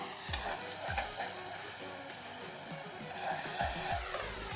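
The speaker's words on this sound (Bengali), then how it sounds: "এখানে দইটা দিয়ে ভালো করে আবারও কষিয়ে নেব।" Curry being stir-fried in a pan after whisked yogurt is added, for a maloti fish and small brinjal dish with yogurt and poppy seed, with steady sizzling and repeated scraping strokes of a spatula, close and alone.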